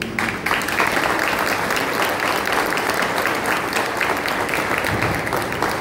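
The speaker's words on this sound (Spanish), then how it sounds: "un aplauso." A concert crowd bursts into loud, sustained applause at a live show of Paraguayan folk music, a dense continuous roar of many hands clapping close by for several seconds.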